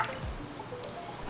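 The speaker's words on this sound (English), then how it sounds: "So just pour it in." Liquid oils poured into a container of melted coconut oil and cocoa butter for lilac cold process soap, a short soft splashing trickle heard up close and alone.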